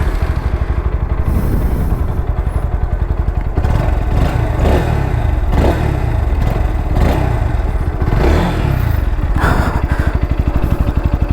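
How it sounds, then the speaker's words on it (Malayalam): A 2023 Bajaj Pulsar NS160 motorcycle idles close by, its single-cylinder engine giving a steady, loud, even thumping putter with faint mechanical clatter throughout. "അപ്പോൾ ഇതാണ് വണ്ടിയുടെ ഐഡിയൽ സൗണ്ട് വരുന്നത്."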